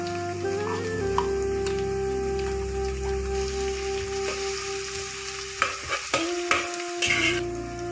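Garlic frying in hot oil in a pan, a dense crackling sizzle with a louder burst of stirring and scraping near the end, close and without speech.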